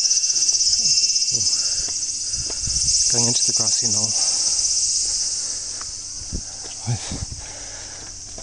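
A steady, high-pitched insect drone of cicadas fills the background throughout, with a person speaking briefly and a few soft footsteps nearby.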